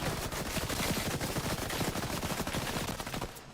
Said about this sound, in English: Guy's got the minigun.